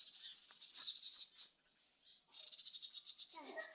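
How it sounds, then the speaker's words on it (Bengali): Faint, high chirping calls from parent birds fussing around a nest, repeated in quick bursts against a quiet outdoor background. "ওই যে পাখির আম্মুরা এদিক ওদিক লড়তেছে শুধু"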